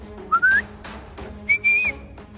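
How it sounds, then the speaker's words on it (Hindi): A person whistles two rising, sustained shrill notes in a prison-cell comedy scene, clear and close, separated by a short pause, with faint background sounds. "ये सीटी की आवाज कहाँ से आ रही है?"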